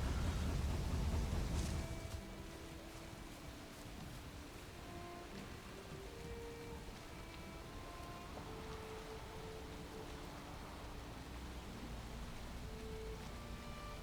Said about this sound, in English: Oh, it started raining.